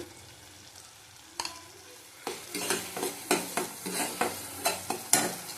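Chicken stir-fried in a pan with poppy seed and cashew paste, a spatula scraping in steady regular strokes over a soft sizzle, close up and with no talking.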